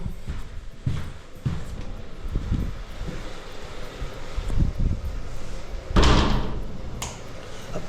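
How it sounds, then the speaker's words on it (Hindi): A door pushed shut in a home kitchen while cooking, giving a loud thud near the six-second mark among other knocks, rattles and handling noises close to the microphone. "ये दरवाज़ा बंद कर दिया है"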